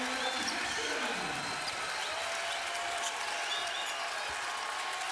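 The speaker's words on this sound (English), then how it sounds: "and the crowd roars" A crowd cheering and roaring in a college basketball arena during a game, with a sustained broad wash of noise, some applause and a faint announcer's voice underneath.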